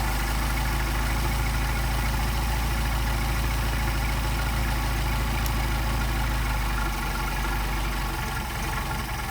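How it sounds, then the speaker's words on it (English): An engine with a Solex carburetor idles steadily as its idle mixture screw is adjusted, a loud, continuous low rumble with a slight change in tone toward the end. "You'll hear the difference in the engine operation."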